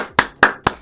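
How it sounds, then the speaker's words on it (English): Three crisp hand claps, evenly spaced and close, come from podcast hosts applauding themselves, sharp and loud with no talk over them. "Give ourselves a round of applause here."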